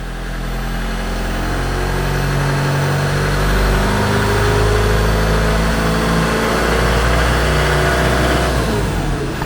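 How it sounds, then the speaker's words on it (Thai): A 2020 Mazda BT-50 Pro Double Cab 2.2 Hi-Racer pickup with its engine running: a loud, steady low diesel rumble close by, swelling slightly partway through and holding for several seconds, no talking. "เครื่องฟิตสตาร์ติดง่ายนะคะคันนี้เนาะ"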